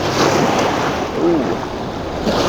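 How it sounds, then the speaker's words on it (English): Ocean waves wash onto a beach in a steady, rushing hiss and swell, with gusting wind buffeting the microphone throughout. "Now I'm just waiting for one wave to come splash them."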